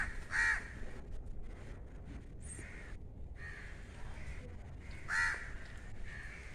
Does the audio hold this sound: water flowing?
no